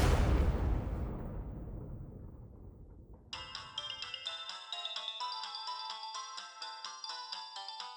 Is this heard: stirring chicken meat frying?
no